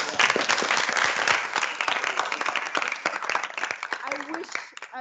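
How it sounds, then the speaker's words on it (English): An audience at a public hybrid lecture gives another round of applause, brisk dense clapping from many people that thins and fades near the end. "can we please give her another round of applause?"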